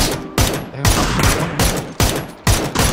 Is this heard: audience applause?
no